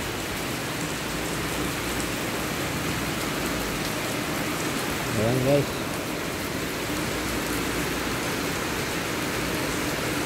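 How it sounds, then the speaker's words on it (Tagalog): Steady, heavy rain hisses throughout as a dense wash of noise in Albay, Philippines, with a brief spoken voice near the middle. "Ulan, lakas ng ulan. Ayan, lumalakas na naman ulit."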